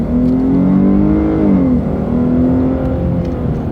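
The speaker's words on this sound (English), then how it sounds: "Step on the gas, see what it does." Dodge Challenger V6 accelerating hard, a loud steady engine roar with rising, sweeping pitch heard from inside the car, continuous throughout.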